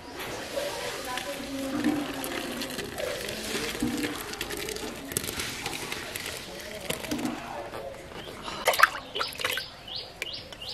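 Vinegar-curdled milk chhana is poured out and drains, giving a steady trickle of running and dripping liquid that lasts throughout, with a few brighter splashes near the end.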